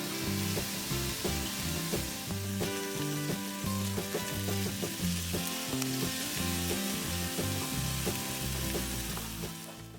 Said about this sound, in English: I added in about a tablespoon of olive oil and then placed the veal chops inside.